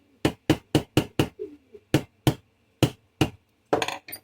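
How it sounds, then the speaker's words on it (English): A small brass hammer taps metal on a vintage 1950s Varney model box car, a series of about a dozen sharp, close, distinct taps, rapid at first, then spaced out, ending with a quick cluster. "I got this little brass hammer at NK."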